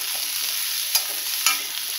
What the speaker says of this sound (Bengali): এই তেলেই আমি একটু লাউটাকে নেড়ে নেব।